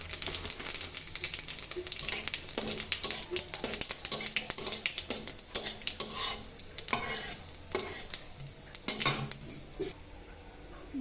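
Dried red chillies frying in hot oil in a pan, a soft sizzle under repeated scraping and clinking of a metal spatula stirring against the pan, close by, with no talk.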